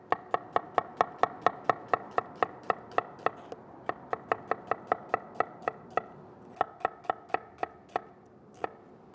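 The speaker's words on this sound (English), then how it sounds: "Just gonna take one yellow onion here, we'll get it peeled and sliced nice and thin." A knife slicing a peeled yellow onion thinly on a cutting board, with steady, evenly spaced sharp chops, about three per second, close and clear, pausing briefly near the end.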